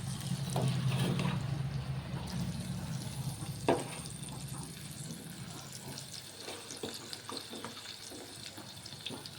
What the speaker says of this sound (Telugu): దీంట్లో ఒక్కొక్క పీస్ వేపుకుందాము.